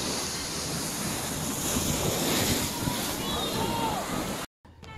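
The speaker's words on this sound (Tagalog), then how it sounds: "nakaka-relax talaga ang dagat mga boss" Sea waves washing on a shore near Davao City, a steady loud roar of surf and wind rumble, continuous and close, with faint voices in the background and a brief dropout near the end.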